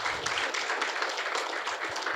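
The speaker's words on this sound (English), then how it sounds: "So please give yourself a round of applause." Conference audience applauding together at a tech event, a dense, sustained burst of many hands clapping that fills the room evenly from start to finish, with no voices over it.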